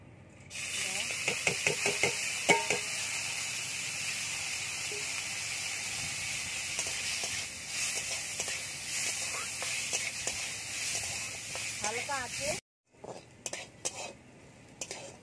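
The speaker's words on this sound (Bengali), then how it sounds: "এরকম ভাবে ডালগুলো ভেজে নেব" Soaked lentils frying in a little oil, a continuous loud hiss and sizzle with repeated spoon scrapes and knocks against the pan, briefly cut off near the end before softer stirring resumes.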